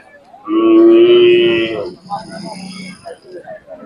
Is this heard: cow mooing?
yes